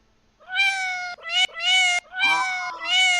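Several drawn-out cat meows, loud and close, each rising then falling in a steady sequence with short gaps between calls, played as a sound effect during a news show.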